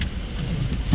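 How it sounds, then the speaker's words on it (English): Rain drumming on a car while sitting inside it, a dense low patter with soft hiss, steady and muffled for under a second with no talk. "I'm gonna have to record this video from my car because it's raining"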